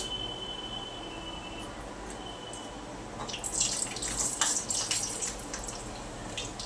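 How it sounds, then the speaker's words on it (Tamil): Papadum frying in hot coconut oil in a home kitchen, a steady bubbling sizzle that swells louder and busier halfway through, close by with no talk. "அப்பளம் பொரிக்கிறேன்."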